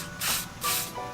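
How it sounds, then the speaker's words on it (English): Three quick hissing sprays of multi-purpose cleaner from a spray bottle onto a folded towel, each a short close burst with brief gaps. "3 sprays."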